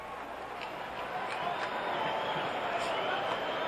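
A large baseball stadium crowd at a Toronto Blue Jays versus Cleveland Indians game keeps up a broad, steady roar that swells slightly, heard from a distance as a continuous wash.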